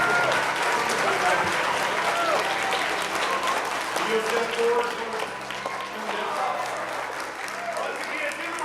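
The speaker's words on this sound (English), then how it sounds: "Once again, give them all a big round of applause." An audience fills the room with steady, dense applause for a group from the Osage Nation Language Program in Oklahoma, broad and sustained throughout, while a person speaks briefly over it.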